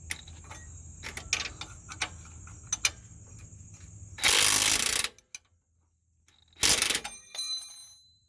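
Ratchet wrench loosening a rear upper control arm bolt on a 2003-2009 Toyota 4Runner, scattered light clicks and ticks followed by two loud buzzing bursts of rapid ratcheting, close up.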